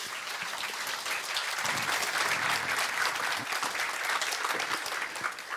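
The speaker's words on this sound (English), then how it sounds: "A warm applause." Warm, steady applause from a conference audience at a European cities event, many hands clapping in a dense, even wash that swells slightly midway and holds to the end.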